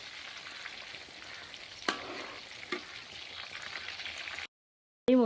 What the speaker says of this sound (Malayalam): എല്ലാ ചിക്കൻ ഇതേപോലെ വറുത്തെടുക്കണം.